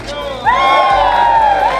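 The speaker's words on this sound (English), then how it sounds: "Hundreds turned out to cheer when a new county library opened in November in Northport" Hundreds of people break into loud, sustained cheering and whooping at the opening of a new county library in Northport, the crowd noise rising suddenly and holding strong.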